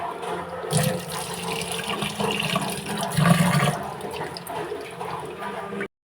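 Close sloshing and pouring water as raw ration rice is rinsed, with a couple of louder gushes, ending abruptly in silence.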